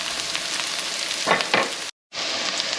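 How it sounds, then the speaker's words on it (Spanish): Chicken and onion fry in oil in a pan for red enchiladas. A loud, close, continuous sizzle runs throughout, with a couple of brief stirring scrapes and a short silent gap near the end. "Y lo vamos a dorar también un poquito junto con la cebolla."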